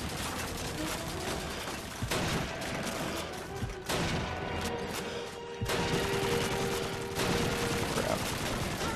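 Gunfire from a Call of Duty 2 battle, with repeated loud rifle shots and bursts cracking over continuous dense combat noise through the whole stretch.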